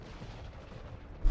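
In the turn-based tactics game Long War 2, a grenade detonates with a sudden deep boom that cuts through a low, rumbling game background near the end.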